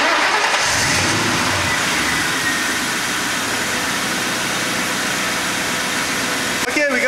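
A car engine is cranked and started, then runs at a steady idle for an alternator charging test, a continuous mid-range drone close by with a brief jolt near the end.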